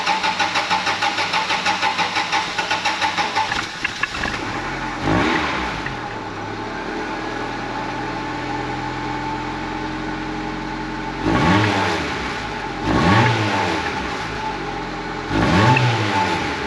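A Honda Integra fitted with a Spoon exhaust cranks over, then idles with a steady burble and is blipped through several sharp revs that rise and fall, loud and close, with no talking.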